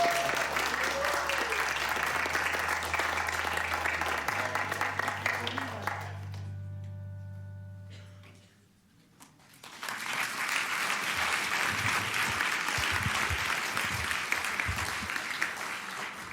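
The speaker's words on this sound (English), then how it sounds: "can we give your teacher another round of applause?" Audience applause for a chemistry teacher at a student recognition evening, a long steady round of clapping that dips briefly near the middle while a low tone sounds, then swells back to full.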